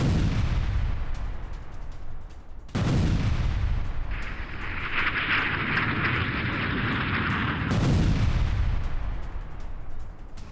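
Explosions from a Russian strike on Ukrainian positions in the Mykolaiv area boom loudly in two heavy bursts, each followed by a rumbling roll, with a hissing blast-like rush between them and no talk.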